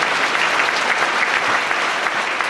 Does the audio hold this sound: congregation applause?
yes